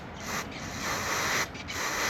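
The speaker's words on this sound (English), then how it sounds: "we'll go ahead and use our carb cleaner" Carb cleaner sprayed onto an RPS 200 ATV carburetor, a close, loud, continuous aerosol hiss with two brief dips, no voices.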